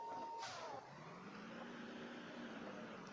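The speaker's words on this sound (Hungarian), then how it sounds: "Kamion." A truck engine in the racing video game Payback 2 drones at low volume under game sound, with a brief tone at the start and then a rising engine hum that holds steady.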